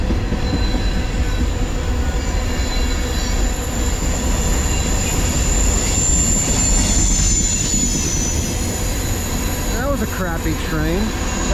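A heavy freight train on the Lehigh Line rumbles past up close, loud and steady, with rolling wheel and car noise and squealing wheels near the end.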